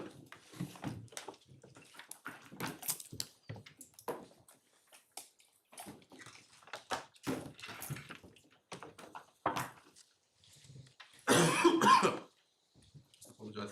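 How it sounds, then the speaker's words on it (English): A man in a courtroom coughs a few times, the sharp bursts standing out among stretches of quiet speech, with one louder cluster of coughs near the end. "Apologize for the cough"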